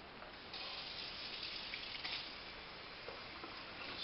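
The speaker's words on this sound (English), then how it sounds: "Then you walk over to the sink and fill it full of cold water." Cold water runs from a sink tap into an iced coffee maker, a steady close rushing gush filling the container throughout with slight changes in pitch as it fills.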